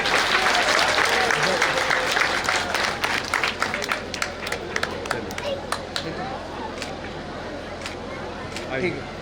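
Guests at a Buddhist wedding clap together in a dense round of applause, loud at first with distinct sharp hand claps, easing slightly but continuing steadily over a low background hum.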